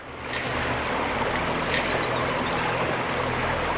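Water pours steadily from a fountain in the Gold Rush video game, a continuous close splashing trickle with no talk over it.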